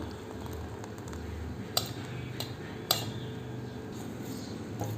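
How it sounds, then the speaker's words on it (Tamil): Boiling millet porridge is stirred in a pot with a metal spoon, producing a few sharp clinks and scrapes against the pot over a soft, steady bubbling background. "கொதிச்சதுக்கப்புறமா அப்பப்போ இந்த மாதிரி கலந்து விட்டுக்கோங்க"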